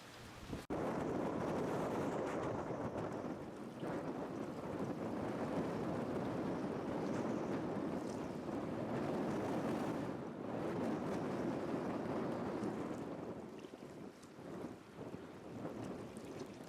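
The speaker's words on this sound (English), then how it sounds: "I'm jumping back in the bivvy because the wind is horrendous" Strong wind buffets the microphone at a fishing lake, a loud, constant roar that swells and eases in gusts over the whole stretch, with no voices.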